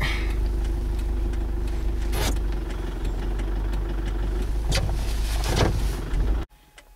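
A vehicle engine idles with a steady low hum and drone on a slippery snow-covered mountain road in Ladakh, broken by a few brief whooshing bursts before it cuts off abruptly.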